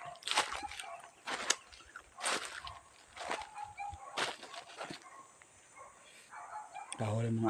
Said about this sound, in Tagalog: Kahuli mga aso, mukhang may tao yata.